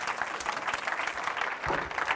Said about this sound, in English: Could we give Jacques a big round of applause?